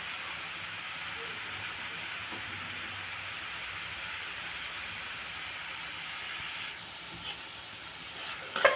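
Vegetables with peas and mint leaves frying in a pan for veg pulao, giving a steady, even sizzling hiss throughout with a few small clicks near the end.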